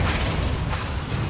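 Confringo fire spell blasting in Hogwarts Legacy combat, a dense, loud rumbling burst of fiery noise with deep low-end booms filling the whole moment, close and without speech.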